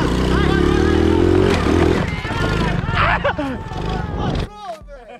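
A mini quad bike revving hard up a steep hill, its engine straining beneath loud shouting and excited chatter from onlookers before the noise drops away.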